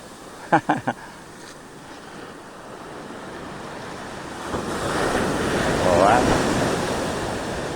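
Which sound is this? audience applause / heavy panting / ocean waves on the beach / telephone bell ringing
ocean waves on the beach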